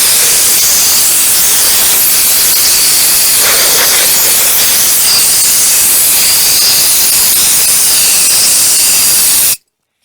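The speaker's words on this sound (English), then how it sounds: "So you're going to need some sort of air compressor just to blast it out." Compressed air blasts loudly and continuously into a TC Wanderer e-bike hub motor to clear metal particles from its magnets, a harsh steady hiss close by that cuts off abruptly at the end.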